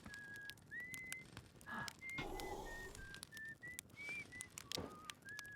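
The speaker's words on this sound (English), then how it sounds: "Now, every time I hear the whistling, I know it's my good old buddy Eska." Short, bird-like whistled notes from the Outer Wilds video game signal repeat at irregular intervals, each a brief pitched tone with some sliding upward, set over a soft hissing ambient background.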